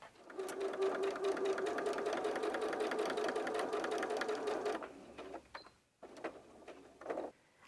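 Sewing machine stitching the bottom edge of a box pouch lining with a quarter-inch seam, a quick even whir close by for several seconds before stopping, followed by a few short handling clicks and knocks.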